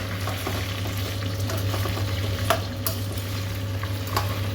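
Green chillies fry in oil in a kadai with a steady, close sizzle and crackle, broken by a few sharp pops and stirring scrapes, and no talk.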